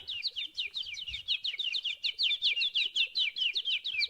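A bird's rapid, repeated high chirping trill, steady and continuous, fairly close with faint background noise.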